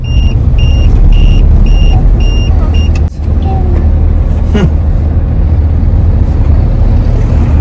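A steady, loud engine drone and low road rumble from a car being driven by a young child, with faint chirping and brief clicks above it and a short dip in the middle; no one speaks.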